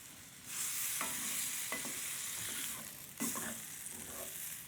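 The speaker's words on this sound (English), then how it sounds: "I'm gonna just go ahead and stir in a little cilantro" Cilantro being stirred into sizzling beef suqaar in a pan: a steady close frying hiss with a couple of scraping utensil strokes and brief louder bursts as the pan is stirred, and no one talking.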